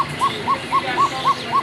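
A Kokka pigeon coos in a steady series of six short, evenly spaced tonal calls, moderately loud, over a faint background hiss.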